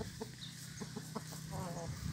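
A fighting rooster of the Bướm type, not yet trimmed, gives a few short, soft clucks at close range over steady background hum, with no talking.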